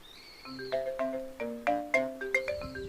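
A melodic phone ringtone plays a quick repeating pattern of bright tones, moderately loud and close, with no other sounds.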